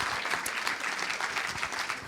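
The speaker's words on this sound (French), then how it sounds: "Et on peut l'applaudir." Brief, steady applause from a ceremony audience honoring an award laureate, an even wash of many hands clapping at moderate distance.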